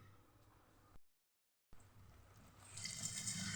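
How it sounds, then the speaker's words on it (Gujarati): Poha flakes are rinsed in a perforated strainer under a running kitchen tap; a steady wash of flowing water builds louder toward the end after a brief silent gap. "એક કાણાવાળા વાસણની અંદર જ પૌવા લેવાના અને સરસ નળ નીચે આવી રીતે સરસ ધોઈ લેવાના"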